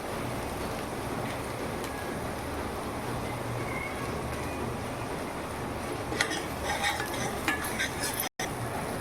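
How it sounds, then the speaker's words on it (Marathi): Masala of garam masala and salt being stirred and roasted in a pan for an urad dal dish, a steady scraping sizzle throughout with clinking utensil strokes growing busier toward the end. "मसाला आता आपला चांगला व्यवस्थित भाजून घ्यायचा"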